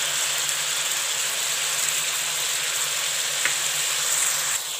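Chicken pieces frying hard in a karahi over high flame, giving a steady, loud, broadband sizzle that holds without pause, with a faint scrape or two near the end and no voices.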